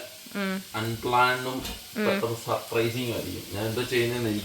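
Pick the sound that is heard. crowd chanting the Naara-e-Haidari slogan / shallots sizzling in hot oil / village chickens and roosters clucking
shallots sizzling in hot oil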